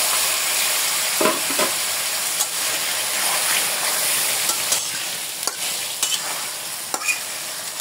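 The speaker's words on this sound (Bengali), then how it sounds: "মাছগুলো কষানো হয়ে গেছে, আমি এখানে আলু দিয়ে দিলাম।" Steady hiss of potatoes frying with snakehead fish in a pan, with occasional scraping and stirring clatter, close by and continuous, no voices.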